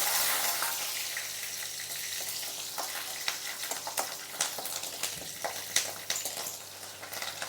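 Slit green chillies and spices sizzle in hot oil, a close, steady frying hiss with frequent small crackles and spits that grow slightly busier toward the end.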